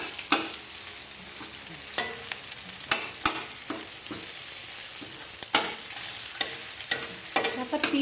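Seafood and tofu stirred in a hot pan, a steady sizzle of frying with repeated scraping and clinking strokes of the utensil, close and fairly loud, no talk.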